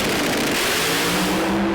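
A Pro Mod drag racing car, a Dutch Racing Barracuda, roars down the strip at a British Drag Racing Championship meeting. The engine noise is loud and steady, a broad, dense rumble that settles into a steadier droning pitch toward the end.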